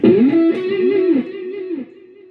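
Distorted electric guitar runs through a POD HD500X multi-effects unit set with delay and reverb, playing a sustained bending line whose notes ring out and fade into a smooth reverb tail, loud and alone.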